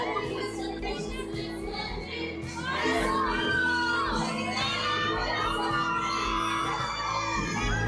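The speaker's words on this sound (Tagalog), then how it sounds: "Ay, may sigaw na sigaw." Audience at a screening of an MMFF movie, loud shouting, whooping and cheering from a packed crowd that swells partway through and stays high, with voices of children mixed in.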